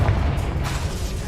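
A Confringo spell explodes in Hogwarts Legacy, a short, loud, deep boom with a rumbling burst that fades over about a second.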